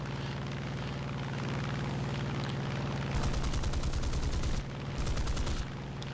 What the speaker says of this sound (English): These 20mm cannons are incredible, and you get a lot of ammunition.